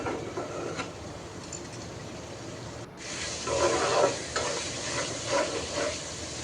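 Dried fish (shutki) frying in a pan, a steady close sizzle with repeated scraping and stirring strokes growing louder in the second half.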